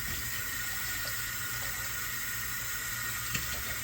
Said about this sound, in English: we're going to go ahead and add this to our Instant Pot, along with just enough water to cover the bottom